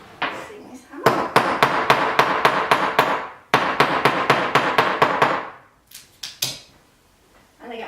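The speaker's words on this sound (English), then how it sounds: "And I'll show you using this hammer" A hammer strikes metal on a hard surface in two fast, even runs of sharp metallic blows, each about a dozen hits, loud and close, followed by a few scattered taps.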